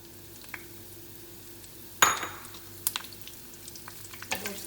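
Anise, cinnamon and curry leaves fry in oil for chicken masala, with a soft sizzle, a sharp spoon clink and a few scraping stir sounds.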